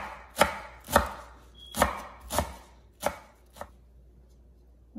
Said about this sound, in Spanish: Nada más picamos poquita lechuga.